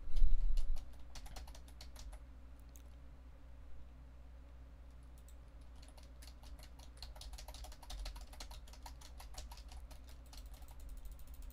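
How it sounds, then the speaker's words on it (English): Clicky keystrokes tap out on a computer keyboard in irregular bursts over a low room hum, picked up by a cheap microphone, with a brief bump at the start and no talking. "I'm now talking and typing on the keyboard at the same time."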